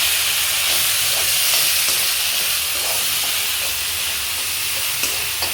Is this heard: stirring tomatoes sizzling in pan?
yes